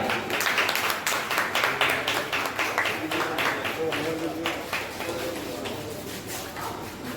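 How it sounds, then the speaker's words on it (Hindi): Audience applause at a retirement farewell ceremony, a dense, continuous patter of many hands clapping at close range for several seconds, with voices mixed in. "आप लोग जोरदार तालियां।"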